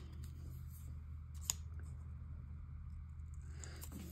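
Scissors snipping paper for a collage, one sharp close cut followed by softer scraping, heard over a steady low hum and faint background noise.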